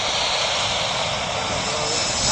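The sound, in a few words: Delta Airlines jet airliner taking off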